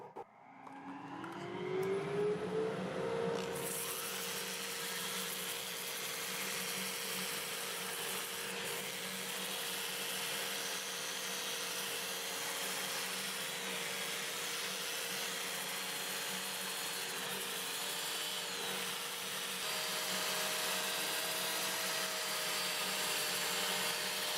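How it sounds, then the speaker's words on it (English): Dust collector running in a woodturning shop while a box elder bowl is sanded on a lathe, a motor spinning up over a few seconds into a loud, steady broadband whoosh that holds for the rest of the clip. "I'm going to start up the dust collector and we'll get it sanded."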